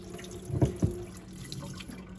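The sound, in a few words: draining starchy water from cooked rice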